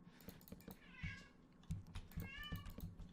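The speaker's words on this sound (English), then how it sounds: "I don't know if you can hear, but my cat's going insane." Loud, insistent meowing from a pet cat, two long rising cries, with keyboard typing and clicks continuing underneath.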